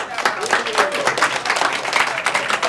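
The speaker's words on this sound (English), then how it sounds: "Give yourselves a big round of applause." Seminar audience applauding, a dense, steady wash of many hands clapping close by for a few seconds, fairly loud and continuous, with a murmur of voices mixed in.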